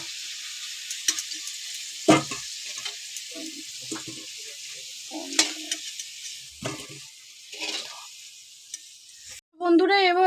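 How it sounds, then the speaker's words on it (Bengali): Potato pieces frying in hot oil in a home kitchen pan, giving a steady sizzle with intermittent stirring clinks and scrapes, ending with a brief burst of louder spattering. "ততক্ষণ আলুটা ভাজা হোক"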